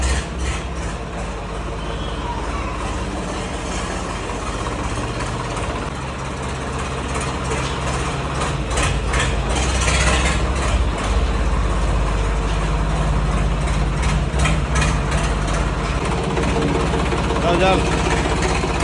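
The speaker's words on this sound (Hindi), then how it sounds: "तो चलो निकालते हैं भाई ट्रैक्टर को बाहर बिना किसी देरी के।" A tractor engine idles and rumbles steadily with a deep, continuous drone before being driven out, loud and close throughout, while voices talk over it.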